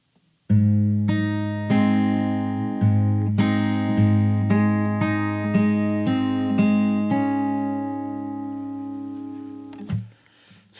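Fingerstyle acoustic guitar plays the fourth bar of a song's chorus, a close, clear run of plucked notes over a sustained bass, steady rhythm for about nine seconds before ringing out and stopping.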